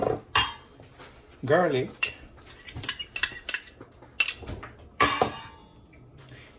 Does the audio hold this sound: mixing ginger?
yes